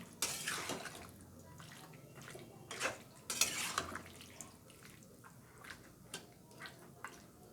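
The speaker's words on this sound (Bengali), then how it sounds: "বন্ধুরা এবার আমি এটাকে ঢাকা দিয়ে দিয়ে কষাবো।" Chicken curry spices fry in a covered pan, giving a steady sizzle with clinks of a lid and utensils against the pan, fairly quiet and close.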